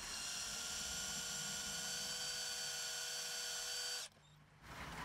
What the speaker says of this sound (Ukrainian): В грузу на 20 грам свердлимо глухий отвір.